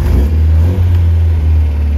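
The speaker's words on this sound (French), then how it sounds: "je vais devoir tenir le starter et démarrer la voiture" A 1979 MGB idling steadily just after starting with the choke held, a loud, close, even low engine drone with a slight dip in the middle and no talk.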